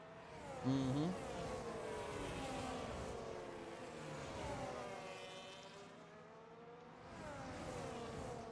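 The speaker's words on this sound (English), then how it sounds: "We've got 2 McLarens trying to keep a racing bull behind them as they head down the strip once more" McLaren race cars in a racing video game speed down the Las Vegas strip, engines droning with shifting pitch and a brief sharp whine near the start, a faint voice underneath.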